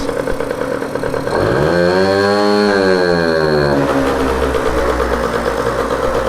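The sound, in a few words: Peugeot Fox moped engine revving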